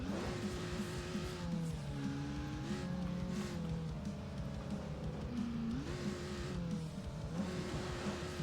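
A buggy engine races in the off-road video game ATV Offroad Fury 4, droning steadily and revving up and down through gear shifts, close and constant with no voice over it.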